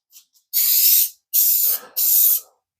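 Three long hissing bursts of Rust-Oleum 2X clear gloss spray paint, sprayed in light, thin coats over a red-painted draped wooden flag, each burst close and loud with brief pauses between, after a couple of faint clicks.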